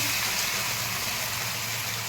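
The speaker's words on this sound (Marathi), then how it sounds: "तर थोडंसं पाणी घालायचं" Water poured into a pan of dry brinjal (eggplant) stir-fry, a steady broadband hiss and gush lasting about two seconds, fairly quiet and continuous with no talking.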